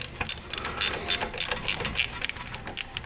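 A socket head bolt is threaded in and snugged down during an ABS repair on a 2018 Jeep Compass, giving a close, rapid run of sharp metallic ratcheting clicks in irregular bursts, with no voices.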